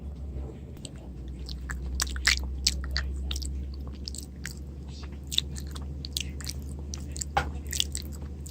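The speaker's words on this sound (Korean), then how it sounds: "저희 먹방 소리 들어볼게요" Spaghetti is eaten up close in mukbang style, with soft wet chewing and slurping, irregular little smacks and bites over a low steady background hum.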